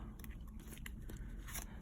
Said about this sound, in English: I'm going to shuffle these 3 decks.